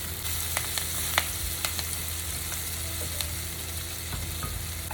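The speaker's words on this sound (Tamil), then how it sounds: "கருவேப்பிலை, பச்சை மிளகாய். இது வந்து நீங்கள் ஸ்லோ ஃபயரில் தான் வதக்கணும்." Curry leaves and green chillies sautéing in a pan over a slow fire, a steady close sizzle with faint crackles and occasional utensil stirs, no voices.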